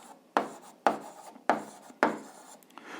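Pen strokes scratch across paper while working an algebra exercise, four distinct rasping strokes at a regular pace followed by a lighter short scrawl, close and quiet with no talk.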